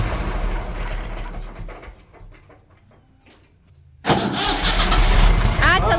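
A 1972 tractor's old engine coughs and cranks, drops to near quiet for a moment, then catches and roars into a loud, steady run nearby, with voices talking over it.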